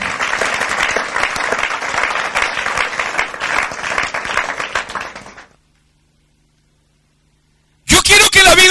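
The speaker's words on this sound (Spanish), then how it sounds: "Dele un aplauso a Jesucristo" A church congregation applauds loudly during a sermon, a dense burst of clapping lasting about five seconds before stopping abruptly into silence. A loud sound bursts in near the end.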